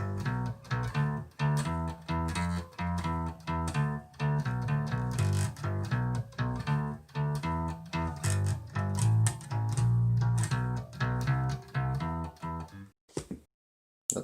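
G blues bass line with eighth-note embellishments, played alone as a steady, close, fairly loud run of plucked notes that stops abruptly near the end.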